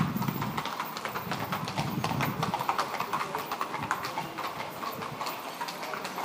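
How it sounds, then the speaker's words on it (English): Horse-drawn carriage hooves clip-clopping along a street in Vienna near a historic church, a steady rhythmic clatter at moderate distance amid faint city ambience. "Who doesn't need a horse-drawn carriage?"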